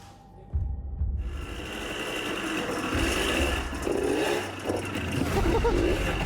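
A 50-year-old rare dirt bike engine catching on the first kick and running, rough uneven mechanical chugging that rises and dips close by, with a brief quiet start before it fires.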